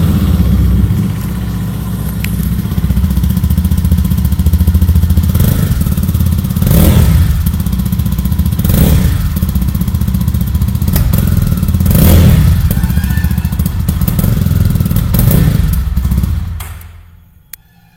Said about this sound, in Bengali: এটার এক্সস্ট সাউন্ডটা কেমন সেটা শোনাই তোমাদেরকে।